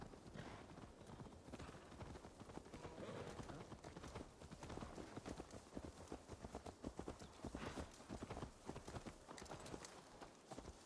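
Steady clip-clop of a horse's hooves on a road in Assassin's Creed Valhalla, a brisk continuous rhythm of hoof strikes that stays close and fairly loud for the whole stretch, with no voices over it.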